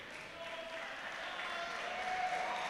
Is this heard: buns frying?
no